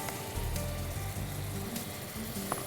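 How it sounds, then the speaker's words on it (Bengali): Spices fry in a pan for mutton korma made with poppy seed and nut pastes, stirred bit by bit as they cook, giving a steady, close sizzle with soft scraping throughout. "আমি একটু করে মশলা দিব আর একটু একটু করে নাড়তে থাকবো"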